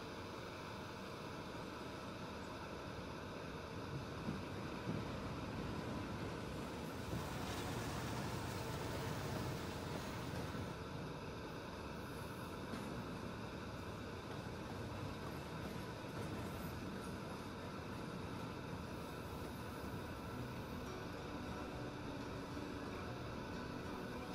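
Steady rumbling rail noise of a moving train in the video game Life is Strange 2, a continuous broadband roar with a brief louder swell partway through and no talking.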